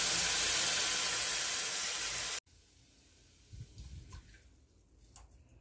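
Water being poured into a pan of milk and oats for oats payasam, a steady loud hissing pour that cuts off abruptly, followed by faint stirring and clinks.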